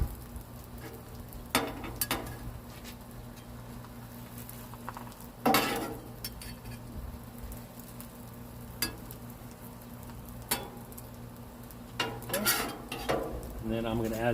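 Chorizo, potato and egg breakfast tacos cook on a griddle with a steady low sizzle, broken by a few sharp scrapes and clinks of a spatula and utensils against the metal surface.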